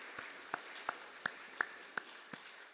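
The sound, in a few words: church congregation applause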